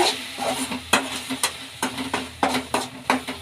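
A spoon stirs a cumin-flavored potato palya mixture seasoned with amchur powder in a pan, making repeated close scraping knocks in an uneven rhythm over a faint sizzle.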